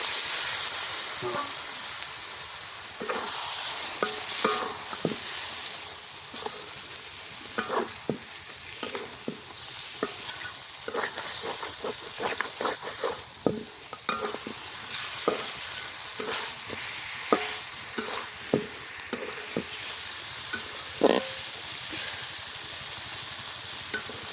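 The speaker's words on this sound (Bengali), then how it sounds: "এখন গোস্তটা দিয়ে দিই" Goat meat sizzling in a pot on a clay stove, a dense continuous fry with repeated scraping and clacking strokes of a spoon stirring it, close and loud throughout, no speech.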